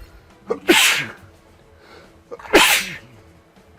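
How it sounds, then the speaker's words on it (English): A person sneezes twice, each one a sharp, close burst, about two seconds apart, with a short inhale before each. "I think I'm clearing my throat, sneezing."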